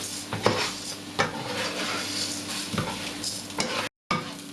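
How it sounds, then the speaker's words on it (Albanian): Orzo pasta fries with onions in a pan, giving a steady close sizzle broken by repeated scraping stirs of a utensil against the pan. "Se kam skuqur qepën, do shtoj makaronat dhe do t'i skuqim për disa minuta."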